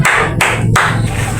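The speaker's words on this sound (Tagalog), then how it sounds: "Bigyan natin siya ng 5 palakpak." Students in a classroom give a quick round of sharp, loud claps in a steady rhythm, with no talking over them.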